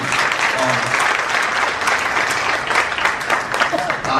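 A crowd at a poetry recital applauds, dense sustained clapping at steady loudness from start to finish, with faint voices mixed in.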